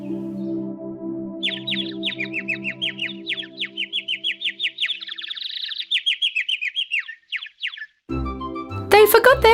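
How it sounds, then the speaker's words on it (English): A snow-white bird from a fairy tale chirps a long, rapid song of quick repeated tweets over a soft music bed, ending in a brief bright burst of sound. "The bird chirped songs with its beautiful voice for them."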